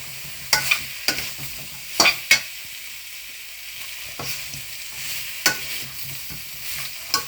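Chicken pieces for chilli chicken stirred in a little hot oil, a low sizzle broken by a handful of sharp spoon scrapes and knocks against the pan, close and with no speech.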